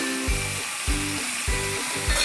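Mango pickle with sugar is stirred in a hot pan, a close sizzle punctuated by four evenly spaced scraping stirs, each about half a second apart, with no voices.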